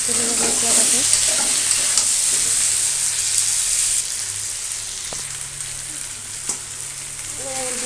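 Potato, tomato and spice masala with cauliflower frying in a pan as it is stirred, giving a continuous close sizzle with spatula scrapes and clicks, louder at first and then softer, with no talk.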